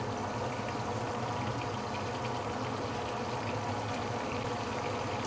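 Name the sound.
fish head deep frying in oil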